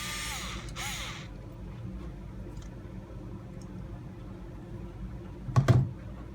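A small power screwdriver whirs briefly at the start and again in a short burst near the end, driving screws to fix a high-clearance bumper part onto an RC crawler frame, close and quiet between the bursts.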